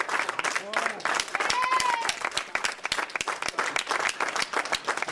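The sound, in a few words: audience applause as speaker leaves the podium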